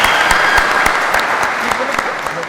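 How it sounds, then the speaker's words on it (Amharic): Studio audience applauds a team on a competition game show, a loud, close burst of dense clapping with distinct individual claps popping through, tapering slightly toward the end without speech. "አጨብጭቡላቸው።"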